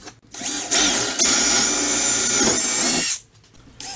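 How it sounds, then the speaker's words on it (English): A power drill whines loudly and steadily for about two and a half seconds, close by, spinning up and then stopping, as it drills a hole through a wall-mount tilt bin. "when drilling a hole through the tilt bin"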